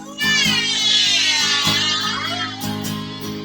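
Drawn-out meowing with wavering pitch sung or imitated by voices over a steady musical backing, fairly loud and continuous.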